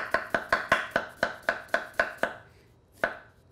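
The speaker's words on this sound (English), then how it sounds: "I'll show you how you have to even cut the peppers that way" A knife julienning peppers on a cutting board for a jicama salad, about ten crisp, evenly spaced chops in quick rhythm, then a pause and one final cut, close and clear with no talking.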